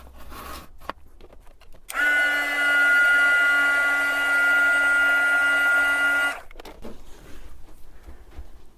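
A heat tool warming embossing powder on a stamped craft piece switches on and runs as a steady, loud whirring hum with a faint whine for about four seconds, then cuts off, with quiet handling noises before and after.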